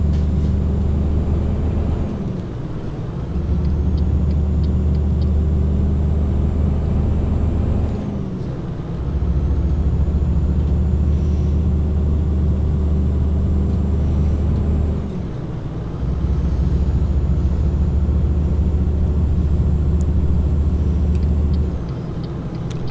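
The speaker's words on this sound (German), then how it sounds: "Wagen hier in Bewegung setzen." Scania truck engine in a driving simulator game, a steady low diesel drone with faint whine that drops off briefly between gear changes and rises again, repeating three times, no talk.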